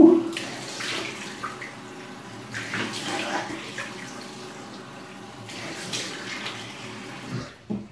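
Tap water runs and splashes as someone rinses off after a shave, producing a soft, continuous hiss with a few louder gushes and splashes and no one talking over it.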